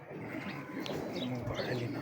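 Gwal Mandi pigeons cooing close by in low, soft, continuous coos, with a faint voice in the background.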